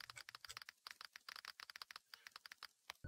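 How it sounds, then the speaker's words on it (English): Rapid keyboard typing effect from the Opera GX gaming browser, a quick irregular run of crisp clicky keystrokes, close and fairly quiet, with no voices. "if you type, as you can see, you will hear in your headset when you are typing. There's other like sound of typing."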